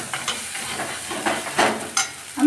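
Spice masala with grated tomato sizzles and fries in a kadai as it is stirred, a steady soft hiss broken by a few scraping, louder stirring strokes, with no talking.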